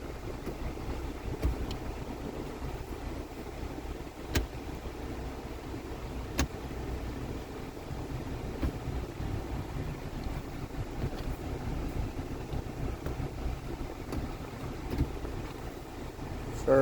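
A car engine runs steadily at idle while the transmission is worked through its gears during a fluid change, a low continuous rumble with faint clicks, no talk.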